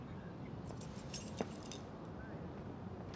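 Keys jangle in a short, faint metallic jingle in the Life is Strange video game, heard over a low steady background hum.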